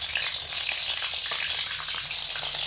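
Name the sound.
eggplant pieces frying in hot mustard oil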